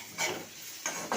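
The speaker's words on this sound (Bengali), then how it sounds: "তবে ভাজা ভাজা হয়ে এলো" Potato peels fry in a pan with short bursts of sizzling and stirring scrapes, quiet and close, two or three brief pulses.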